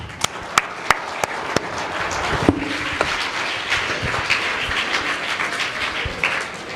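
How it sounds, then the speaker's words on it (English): A few sharp separate claps ring out first, then a school audience at a life-skills session breaks into a broad, sustained wash of clapping and crowd noise. "Let's give her a clap."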